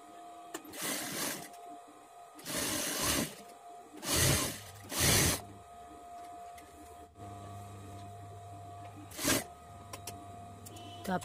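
A sewing machine stitches a hook-and-eye strip on a katori blouse in several short whirring bursts of about a second each, close and moderately loud, separated by quiet pauses with faint handling sounds.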